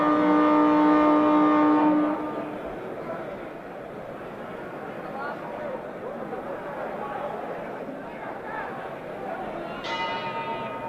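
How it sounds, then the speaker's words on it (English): A boxing ring bell rings to open round 8 of a Muhammad Ali heavyweight fight, several clangs over the first two seconds with a shorter ring near the end, heard above crowd noise and a broadcast commentator's voice. "The bell for round 8."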